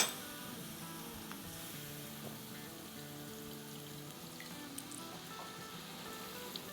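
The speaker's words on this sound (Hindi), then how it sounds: "और अब इसमें हम डाल देंगे पानी।" Water poured into a hot pan of sizzling noodle chaat mixture, giving a steady loud sizzle and bubbling hiss that holds evenly for several seconds with no talking.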